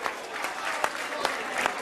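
A football stadium crowd applauds a player's fair-play gesture. The clapping is steady and fairly distant, with a few sharper claps standing out over the broad crowd noise.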